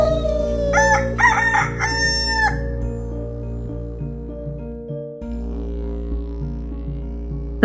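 A rooster crows as a story sound effect, loud and near, with a few rising cock-a-doodle-doo calls packed into the opening seconds before a sustained musical backing carries on alone.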